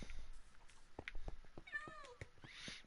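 A Minecraft cat lets out a short meow, nearby and distinct, among scattered clicks and game sound effects.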